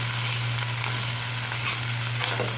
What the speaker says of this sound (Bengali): চিংড়ি মাছটা আমার ভাজা হয়েছে, এবার আমি উল্টে পাল্টে নিচ্ছি ভালো করে।